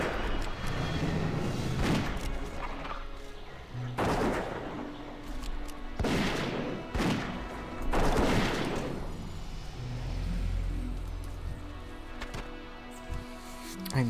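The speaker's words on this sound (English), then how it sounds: "Aim shots delivering some quite nice hits." A hunter's Aimed Shot attacks in World of Warcraft Mists of Pandaria Classic land as several sharp, punchy impacts, spaced a second or two apart, over quiet game ambience.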